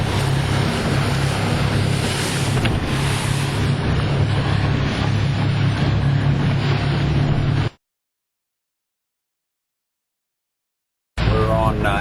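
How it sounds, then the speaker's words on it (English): Wind and waves on Atlin Lake while a boat crosses it: a loud, rushing mix of wind buffeting and water noise under a low engine hum. It cuts to silence for a few seconds, then briefly resumes. "Waves are coming up a little bit."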